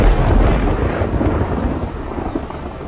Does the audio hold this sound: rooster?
no